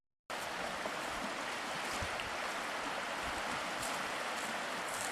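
A creek flows in a continuous, even rush of running water that sets in after a brief silence and holds steady at moderate level, with nobody speaking.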